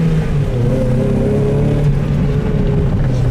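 Mazda Miata engine revving hard to about 5,000 RPM, a loud, close, steady high-pitched engine roar that holds for a few seconds with no talking over it.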